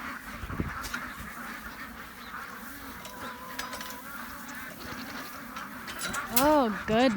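Ducks quack in a noisy outdoor farm setting with goats and ponies, ending in a loud burst of repeated quacks near the end, with a voice partly mixed in.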